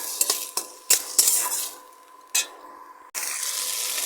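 Rose apple pieces frying and being stirred in a pan, with intermittent scrapes and clinks from a utensil against the pan over a soft, steady sizzle, close and fairly quiet.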